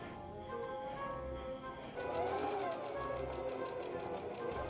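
Sewing machine stitching lace onto a garment edge for Edwardian underwear, a steady mechanical hum with a faster rhythmic run in the second half, fairly quiet and close.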